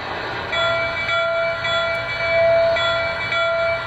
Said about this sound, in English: here's that great bell, and watch what happens when I ring it.